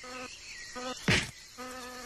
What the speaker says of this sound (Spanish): La avispa parece estar decidida a hacer notar su presencia.